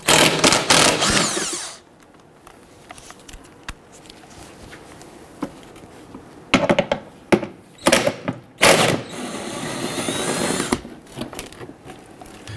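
Bolts coming off the splash guard of a 2011-2021 Jeep Grand Cherokee 3.6L V6: loud bursts of ratcheting and tool clatter at the start and again through the second half, with a quieter stretch between.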